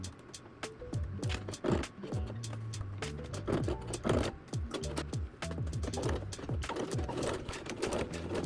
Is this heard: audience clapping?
no